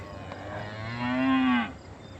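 A cow moos loudly once at feeding time, a long low drawn-out call that rises and falls before fading, with quiet farmyard background around it.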